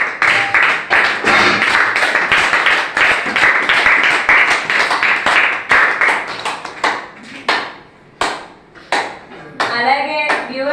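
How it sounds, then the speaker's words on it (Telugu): A group at an ashram claps together in steady, dense applause that thins toward the end, with a few scattered claps and light background noise. "అందరు క్లాప్స్ కొట్టండి"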